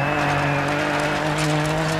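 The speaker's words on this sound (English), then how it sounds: "when you hear me say go, hit the gas and get up to speed." A Ford Fiesta R2 rally car in the DiRT 4 racing game revs hard from a standing start, its loud droning engine holding a steady pitch with tire noise over it.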